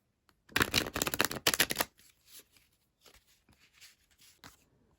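Tarot cards being shuffled, a dense riffling burst of rapid card flutter for about a second and a half, then softer scattered taps and slides as the deck is handled, close and quiet with no talking.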